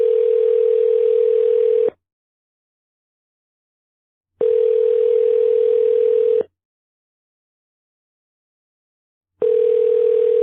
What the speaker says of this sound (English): Come on, answer your phone. I know you're there.